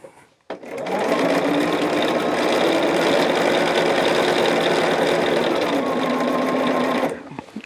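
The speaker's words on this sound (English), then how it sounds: "go ahead and sew these on the correct side" A sewing machine stitches fabric in one continuous, steady mechanical whir that starts after a brief pause and runs close and loud for about six seconds before stopping.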